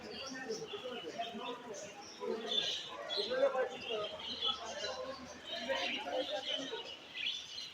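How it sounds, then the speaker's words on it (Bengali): Many budgerigars chirp and chatter in high, busy bursts at a crowded budgerigar competition in Pangsha, Rajbari, while people talk nearby over the birds. "পাখি রয়েছে অনেক।"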